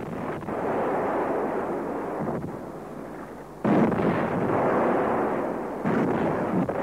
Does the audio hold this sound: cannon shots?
yes